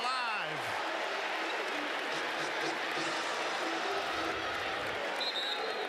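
A lively home crowd at a Clemson men's college basketball game in a packed arena roars and cheers steadily, with a broad continuous wash of voices and applause throughout.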